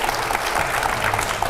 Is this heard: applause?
yes